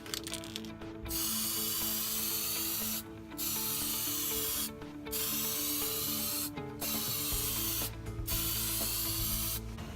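Aerosol anti-corrosion coating sprayed onto HVAC coil boards: a close, loud hiss in several long bursts of a second or two each, separated by brief pauses, with no talking.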